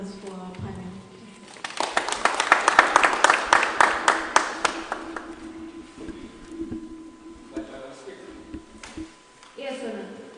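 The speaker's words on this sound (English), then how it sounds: "let us give a round of applause for our panel." An audience applauds a panel at a diocesan gathering, with a burst of clapping swelling and then fading while a voice talks over it and speech carries on afterward.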